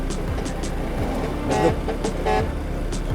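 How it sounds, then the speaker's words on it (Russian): A vehicle horn sounds twice in brief honks over steady road traffic on a Cambodian road, with a truck or car engine rumbling close by and background chatter. "Что он там сигналит-то?"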